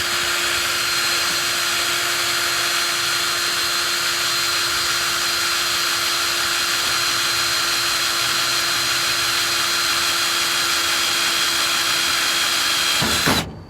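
A power drill drilling into sheet metal whines steadily at a constant high pitch for several seconds, loud and close, then stops abruptly.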